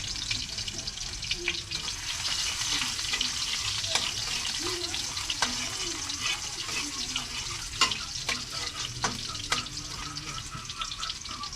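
Garlic sizzling gently in a pan while bihon is being cooked, with steady low crackle, intermittent clinks and stirring scrapes, and a running-water hiss in the background; a voice speaks faintly at times.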